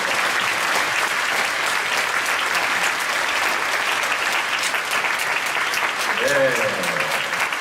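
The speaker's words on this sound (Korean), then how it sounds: "우리 박수로 환영하겠습니다" At a Friday night church worship service, the congregation applauds to welcome missionaries with a long, steady, dense wash of clapping, and a voice speaks briefly over it near the end.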